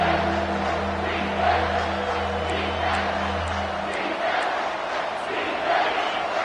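A college football stadium crowd roars steadily for the defense in an NCAA game, a dense, loud wash of cheering with low droning tones underneath.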